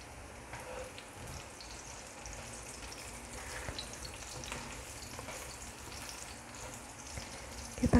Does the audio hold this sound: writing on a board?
no